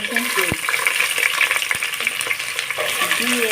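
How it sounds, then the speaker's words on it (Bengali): Green chilli and chopped onion drop into hot oil with browned spices for a banana-flower ghonto, setting off a steady close sizzle and frying crackle, with a few scrapes of stirring and no talk. "এখন এর মধ্যে দিয়ে দিব আমি কাঁচা লঙ্কা পেঁয়াজ কুচি দিয়ে"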